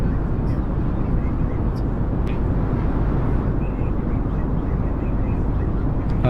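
A WatsonJet airliner cabin on an inaugural flight from Cebu to Puerto Princesa gives a steady, loud broadband engine and air roar that holds unchanged throughout, with no voices on top.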